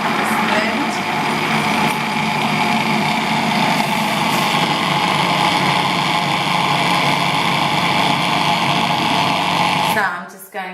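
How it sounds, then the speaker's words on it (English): A kitchen blender whirs loudly and continuously as it purées fresh parsley and coriander into a paste for falafel. The motor runs steadily for about ten seconds, then cuts off and spins down. "I'm just going to keep stirring it around and blending continuously till it's like a very soft paste"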